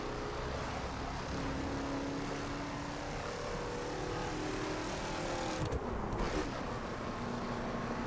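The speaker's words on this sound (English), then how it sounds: "There's a helicopter up there." Aircraft engine drone hums steadily overhead in the racing game The Crew, a distant helicopter near Niagara Falls heard over the continuous rumble of a stock Cadillac Escalade on the road.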